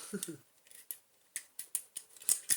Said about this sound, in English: Cut all this thread, take it out